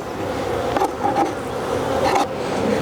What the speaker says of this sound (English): bees all over me